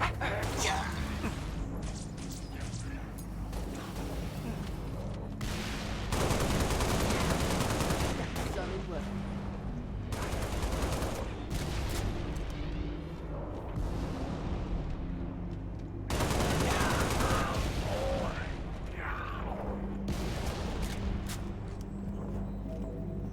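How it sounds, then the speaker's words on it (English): Enemy gunfire in a video game, bursts of shots and heavy blasts rolling in and out over roughly twenty seconds, loud and dense, with background game sounds and people talking over parts of it. "Banshees, stop shooting at us."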